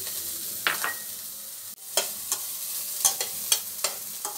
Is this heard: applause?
no